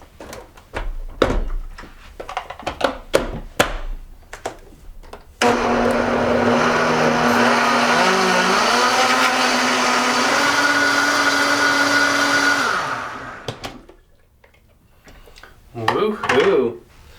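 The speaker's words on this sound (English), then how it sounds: "And now we blend." Blender whirring through a green coconut smoothie pudding of scraped coconut flesh, a loud steady roar lasting about seven seconds that winds down, with kitchen clatter before and after.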